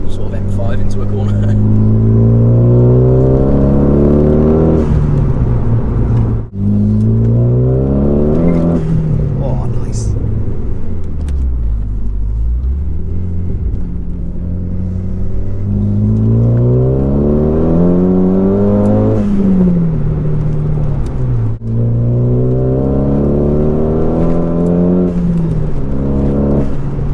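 A turbocharged Renault Clio fitted with a Megane engine and over 300 bhp lapping a track, its engine revving up through gears repeatedly with brief lifts between pulls, loud and continuous throughout.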